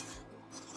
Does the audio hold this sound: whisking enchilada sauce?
yes